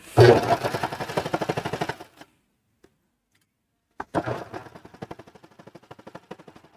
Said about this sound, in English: we're going to serge just as close as we can get